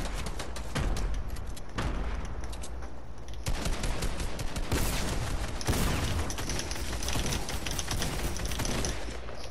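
Dense bursts of rapid gunfire fill a video game shooter, with sustained automatic fire broken by short gaps and loud single shots, continuous and close throughout.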